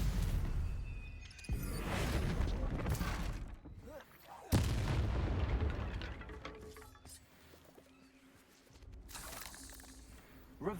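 Spell blasts in the video game Hogwarts Legacy: several booming bursts with whooshing tails, a big one near the start and another mid-way, under a voice casting incantations.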